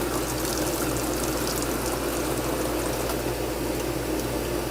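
Water streams steadily over a lab specimen as it is rinsed under a tap, a close, even gushing wash without pauses or speech.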